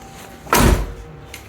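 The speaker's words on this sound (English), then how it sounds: "If I open the door," A car door on a GM vehicle is opened during a battery disconnect switch install: one short, loud latch clunk and swing, close by, with no talking.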